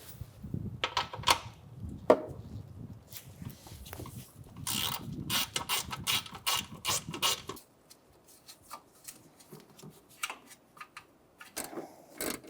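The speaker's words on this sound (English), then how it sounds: "I'm using an extension with a long 10mm socket." Ratchet with an extension and long 10mm socket tightening nuts on a Buick Encore washer reservoir, rapid bursts of close clicking that stop and start repeatedly, with some handling and clunks between runs.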